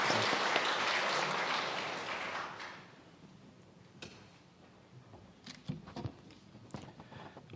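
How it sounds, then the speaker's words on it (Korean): A church congregation claps in a dense burst of applause that fades out over a few seconds, leaving scattered light taps and room noise. "우리 격려의 박수 한번 드리겠습니다."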